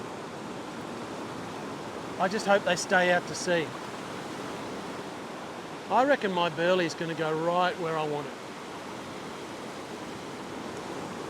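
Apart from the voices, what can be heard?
waves breaking on reef at beach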